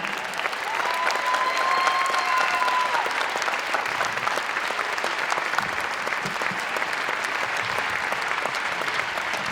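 Audience at a musical tribute concert in Buffalo applauds the mayor, a loud, dense, sustained clapping from a large crowd with a brief whistle early on, continuing steadily throughout.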